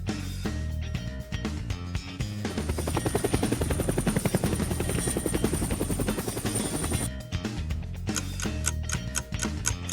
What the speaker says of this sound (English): Yes, this is the sound of a helicopter.